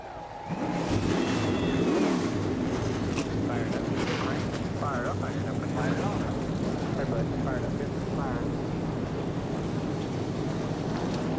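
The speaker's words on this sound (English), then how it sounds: "Drivers, start your engines." NASCAR Xfinity Series race cars fire up and rev together at the start of the Sport Clips Haircuts VFW 200, a dense, continuous thunder of engines under crowd noise and announcer talk.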